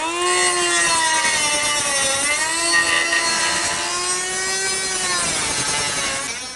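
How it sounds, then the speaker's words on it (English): A cordless Ingersoll Rand cutoff tool grinds through a rusted exhaust clamp, a loud, close, continuous high whine whose pitch sags and recovers as the disc bites, then trails off at the end. "I'm going to use this cordless Ingersoll Rand cutoff tool and get going."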